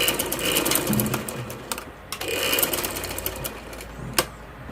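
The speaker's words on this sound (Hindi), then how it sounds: "मैं भी मशीन पर लगा के आपको दिखाती हूँ।" A sewing machine runs in short bursts, stitching through fabric to secure a loop dori, with brief pauses and clicks between runs, close and moderately loud.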